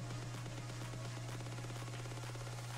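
Rapid automatic gunfire rattles steadily in the World War I shooter game Battlefield 1, a continuous fast stream of shots over a constant low hum, no talking.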